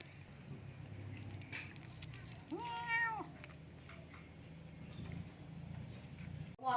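A cat gives one clear, drawn-out meow in a home where a family is cooking a Thai pork barbecue meal, with low background noise and some faint voices.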